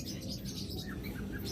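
Budgerigars at a bird seller's shop chirping in quick, thin tweets over a low steady background hum, close by but fairly quiet.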